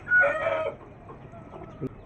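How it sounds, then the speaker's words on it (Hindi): A brown hen in a farmyard coop gives a short, nearby cluck and squawk, followed by a few fainter clucks, with no talk. "ब्राउन मुर्गी जा रही है, चली गई है ब्राउन मुर्गी अंदर"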